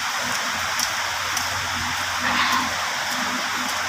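Rain falls in a steady, even hiss with soft patter on surfaces, continuous and moderately loud, with no voices.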